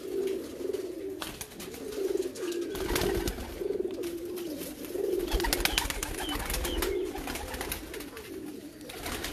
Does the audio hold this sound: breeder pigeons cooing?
yes